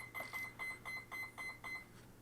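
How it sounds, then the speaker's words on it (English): Electronics in a Freewing F-15 Eagle 90mm RC jet beep in a steady run of eight short, evenly spaced high tones, each repeated quickly, then stop. "Thing's beeping at me."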